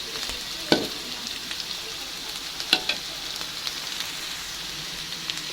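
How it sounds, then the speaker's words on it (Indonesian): Tempeh fries in oil in a pan, a continuous crackling sizzle broken by a couple of sharper clacks and spatters as the pieces are turned; close, no talking. "Nah, ini udah bisa kita balik tempenya"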